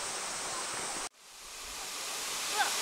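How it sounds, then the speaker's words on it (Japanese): Minoh Waterfall in Osaka roars as a steady broadband rush of falling water. It cuts out abruptly near the middle, then swells back to a loud continuous wash. "美濃の滝が見えてまいります。"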